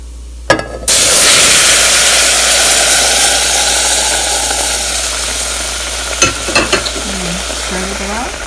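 Boiled milk poured into semolina roasting for suji halwa bursts into a loud, steady sizzle and bubbling hiss that slowly fades, with a few clinks of a stirring spoon near the end.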